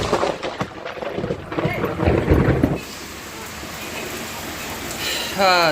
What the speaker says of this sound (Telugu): అనుకోకుండా అయితే వర్షం విపరీతంగా పడేస్తుంది